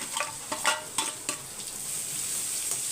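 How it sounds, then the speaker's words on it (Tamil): Onion sizzling and frying in a pan for a Tamil lunch-box cooking session, with a steady hiss and a few scraping stirs near the start, close and clear with no talk. "பாருங்கள் வெங்காயம் வந்து பாதி வதங்கிடுச்சு"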